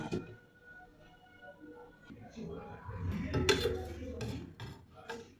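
Dishes and utensils clatter and scrape as a home-cooked fish dish is served, with several close clinks and rubbing sounds growing busier midway, a soft voice faintly present.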